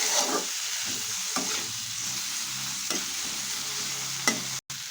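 Chopped tomatoes, onion, green chili and garlic sizzle in a pan with a constant hiss. A spatula scrapes and stirs at irregular intervals, heard up close with no voices.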